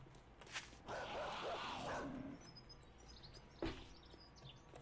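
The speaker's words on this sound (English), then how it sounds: "Another dog somewhere." A dog barks in the game 7 Days to Die, one raspy distant bark followed by a second short bark, faint against a quiet ambient background with light chirps.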